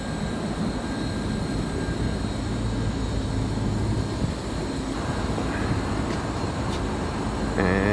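Several LG Multi V VRF outdoor units on a large 126-ton system run steadily with a constant broadband fan whoosh and low hum, close and loud, with faint clicks toward the end.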